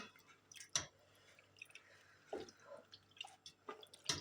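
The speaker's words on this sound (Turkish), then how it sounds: "Sonra elimizle beraber peynirini sıktırarak toparlayacağız." Wet squelching and dripping as water is squeezed by hand out of muhlama cheese, a few distinct squishy bursts and drips close up, with short quiet gaps between them and no talk.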